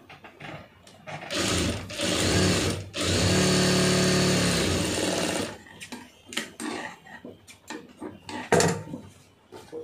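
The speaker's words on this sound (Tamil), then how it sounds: "இப்போ இதை வந்து தையல் ஓட்டிருங்க." A sewing machine stitching a blouse runs in two loud, steady motor bursts, the second longer, followed by softer handling clicks and rustles.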